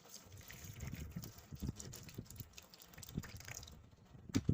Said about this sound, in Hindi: अब मैं इसको पानी डाल देता हूँ